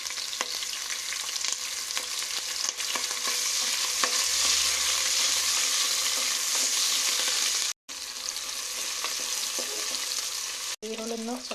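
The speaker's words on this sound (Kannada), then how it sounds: "ಈರುಳ್ಳಿನೂ ಸ್ವಲ್ಪ ಬ್ರೌನಿಶ್ ಬರೋವರೆಗೂ ಫ್ರೈ ಮಾಡ್ಕೊಳ್ತಾ ಇದ್ದೀನಿ" Sliced onions fry in hot oil for donne biryani, giving a continuous bright sizzle with occasional stirring scrapes, close and steady throughout with two brief breaks.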